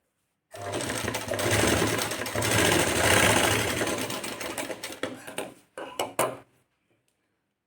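A sewing machine stitches a puff sleeve with a fast, loud mechanical whir and clatter, running steadily for several seconds, then breaking into short stop-start bursts before falling silent.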